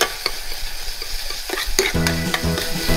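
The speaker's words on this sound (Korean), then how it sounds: "이렇게 해서 간장을 살짝 태우듯이 이렇게 볶아 주시면 돼요." Soy sauce, two tablespoons, is stir-fried and slightly scorched in a hot pan with onion while making a spicy seafood jjamppong stew, giving close, steady sizzling with scraping stirring clatter and no talk.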